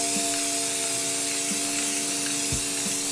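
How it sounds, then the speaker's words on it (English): A spray gun hisses steadily as it puts a second coat of paint on a Chevy Silverado part, a continuous close airy rush with faint thumps in the background. "we want to make sure we get a good spray on it this second time."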